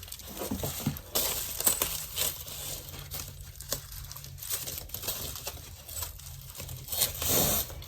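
Paper packaging crinkles and rustles while a black Coach denim Cassie 19 bag is unboxed, with irregular close-up crumpling bursts and tearing-like swishes throughout.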